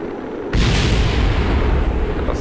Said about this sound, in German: Da ist noch irgendwas explodiert.